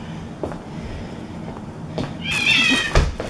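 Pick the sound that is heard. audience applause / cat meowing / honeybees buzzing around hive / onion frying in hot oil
cat meowing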